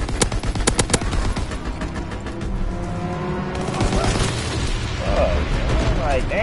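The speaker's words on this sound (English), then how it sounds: "Strafing run inbound." Strafing run in a multiplayer shooter game: a rapid burst of sharp gunshots up front, then rumbling explosions and layered battle noise that keeps going, with some speech-like chatter mixed in.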